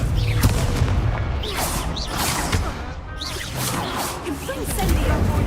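Fiery Confringo spell blasts in the Hogwarts Legacy video game, booming bursts and whooshes layered into constant dense combat effects throughout, with a voice calling out over the action.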